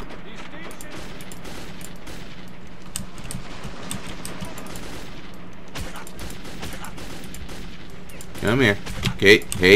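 Gunfire in Metro 2033 crackles as scattered shots through most of the stretch, then grows into louder, closer bursts near the end, while someone speaks briefly over it.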